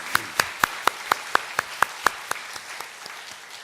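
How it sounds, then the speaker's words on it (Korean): A church congregation at a Sunday worship service claps together in sharp, evenly spaced unison beats, about four per second, loud at first and then trailing off. "예, 박수로 환영하겠습니다."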